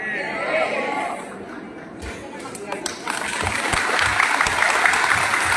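A crowd at a press event breaks into applause, the clapping swelling and holding steady over a dense wash of chatter.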